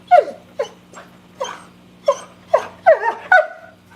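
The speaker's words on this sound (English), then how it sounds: "You're the most inconsiderate dog I've ever known." A dog gives a series of short, nasal whimpers and whines with breathy gasps between them, about eight distinct cries over a few seconds, close to the microphone and growing more insistent toward the end, with a low steady hum underneath.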